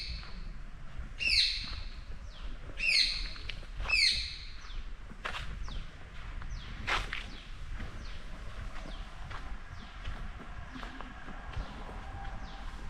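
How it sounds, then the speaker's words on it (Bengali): Birds calling in a sal forest at Kankrajhore, a run of three sharp repeated chirping phrases early on, then scattered thinner calls at a distance over a steady background hiss. "পাখির আওয়াজ শুনতে পাচ্ছ।"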